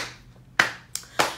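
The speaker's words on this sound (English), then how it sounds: "we're gonna clap one, two, three, four times" A few sharp hand claps in a slow, steady rhythm for a children's dinosaur song, close and crisp with short pauses between them and no voices.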